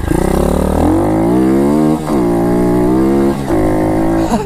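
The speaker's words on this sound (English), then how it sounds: "I love that it power wheeled." A pit bike engine revs hard as its back wheel spins on dirt, a loud, close, buzzing roar that climbs and dips in pitch through several throttle surges, with no voices.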